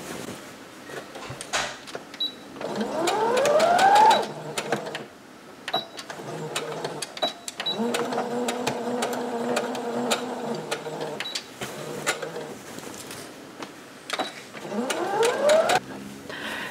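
A sewing machine overcasts a seam on a dress in bursts of rapid mechanical stitching, each run starting and speeding up and then stopping, with short pauses and light handling noises between runs.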